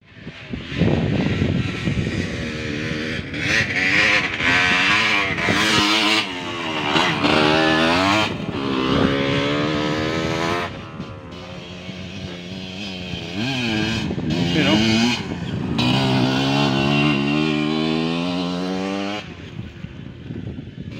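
Several enduro motorcycles ride over a rough road with engines revving and droning continuously, pitch rising and falling as they pass near the listener, loud and without speech.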